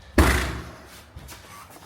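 An apartment door unlocked with a code swings open with one loud heavy thump, followed by a fainter knock and soft handling noises, close by.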